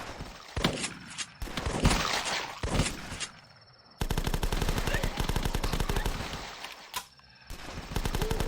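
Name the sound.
shotgun firing in The Last Stand video game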